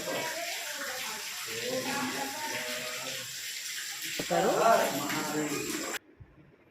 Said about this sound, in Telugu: ఇందులో వాటర్ అయితే నంది నుండి వస్తుంది